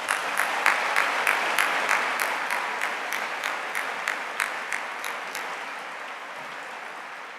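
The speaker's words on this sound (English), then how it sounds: "So let's applaud Rachel as well." Steady applause from a large audience at a public debate between William Lane Craig and Lawrence Krauss, dense rhythmic clapping that holds strong for several seconds and then gradually tapers off.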